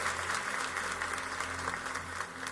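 A church congregation at a live service applauds, a steady, moderately distant wash of clapping that holds through the whole stretch under a low sustained hum.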